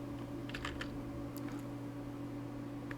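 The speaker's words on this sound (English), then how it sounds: "You type in configure." Quiet typing on a computer keyboard: a few light, scattered key clicks over a steady low electrical hum, with no voices.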